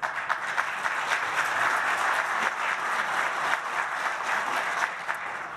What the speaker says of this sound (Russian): Хорошо, что вы аплодируете,